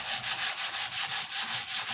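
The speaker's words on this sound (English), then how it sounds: "You'll be sanding them now." Hand sanding of a painted surface with steady, rhythmic back-and-forth rubbing strokes, close and moderately loud, about eight even strokes with no voices.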